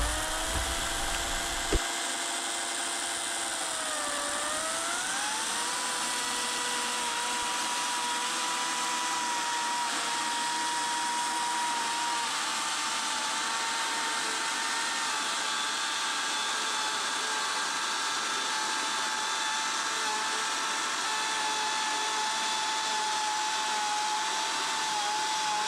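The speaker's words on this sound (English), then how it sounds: "Then I get out my handy dandy saw." A saw cutting wood to mill 5/8-inch batten strips, a steady loud whining drone that starts abruptly after a brief pause, its pitch dipping slightly as it bites in, then running continuously to the end.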